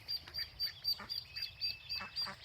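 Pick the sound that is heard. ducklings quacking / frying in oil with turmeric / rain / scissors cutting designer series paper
ducklings quacking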